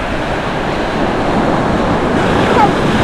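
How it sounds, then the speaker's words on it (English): Ocean waves break at Huntington Beach State Park in South Carolina, a loud, steady, close surf roar that fills the whole clip. "The waves seem a lot less aggressive than they were yesterday."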